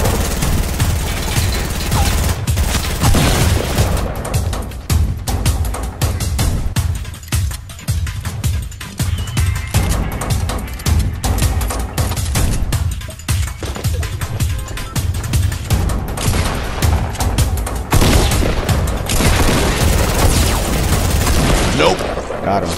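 Rapid gunfire in a Fortnite Battle Royale match, dense volleys and scattered shots with occasional booms running nearly nonstop, loud and close, with a player talking over the shooting.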